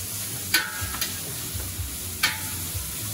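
Onion and garlic sauté in a pan with a steady sizzle, while a utensil scrapes and stirs in a few distinct strokes. Close, moderately loud, no voices.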